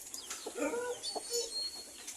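Rhode Island cross laying hens cluck and call in short, scattered bursts, moderately close, with soft overlapping chirps and murmurs in a quiet yard and no talking.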